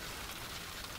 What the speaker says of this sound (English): Driving into the hail.